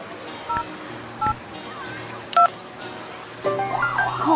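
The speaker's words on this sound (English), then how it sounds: "Dial the emergency number." A few short electronic phone keypad tones from a children's safety video game, spaced apart, followed by the start of a wavering siren, over a low steady background hum.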